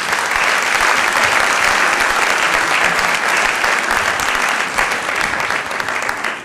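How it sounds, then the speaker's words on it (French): An audience at a rabbi's talk applauds warmly and at length, a dense, even roar of many hands clapping close by without interruption. "je voudrais qu'on l'applaudisse tous très très fort"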